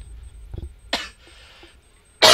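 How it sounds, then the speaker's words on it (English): A single sharp cough bursts out after a brief low vocal sound and a soft hiss, followed by another loud cough-like burst at the end. "Sorry about the cough"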